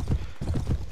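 Rapid hoof clip-clop of a galloping horse in the video game Mount and Blade: Warband, steady rhythmic beats close up and fairly loud, with no talking.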